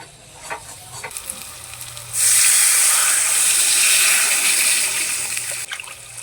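Water poured into a pan of frying potato curry with cashew and poppy seed sets off a sudden loud, sustained hissing sizzle. It follows a quieter stretch of frying and fades slightly near the end.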